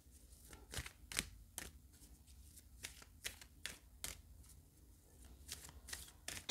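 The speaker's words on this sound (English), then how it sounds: "I'm going to take an Atlantis card now for you." Atlantis oracle cards being shuffled by hand, with a run of crisp riffling bursts repeating at a quick, uneven rhythm, close and fairly quiet, with no voices.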